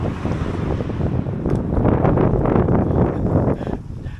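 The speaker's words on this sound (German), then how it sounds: "Und das ist so windig hier. Dieser Wind nervt." Strong wind batters the microphone on a hike toward an abandoned site, producing heavy, rumbling buffeting that swells in gusts and then eases off near the end, with no one speaking.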